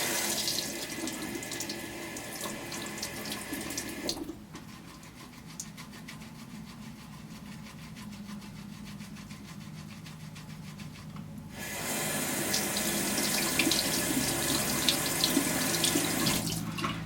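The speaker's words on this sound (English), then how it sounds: "So I'm kind of keeping that underneath the tap and kind of shaking that back and forth." A bathroom tap runs steadily while makeup brushes are rinsed and shaken under it. The splashing hiss dips quieter in the middle stretch, then returns louder, with no talking.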